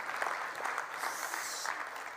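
A conference audience applauds the production team and volunteers, with a soft, steady roll of many hands clapping heard at a distance and no talking.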